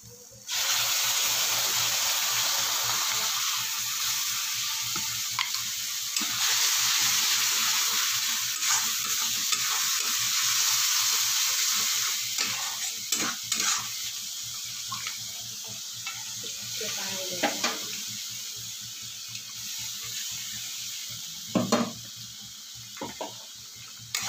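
Ginger, garlic and onion paste sizzles steadily in a hot pan for egg curry, with the spatula scraping and stirring throughout and a few sharper clinks near the end.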